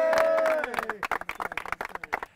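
A crowd at a golf event at a country club breaks into scattered clapping and cheering, sharp irregular claps building after a host's voice, moderately loud and close.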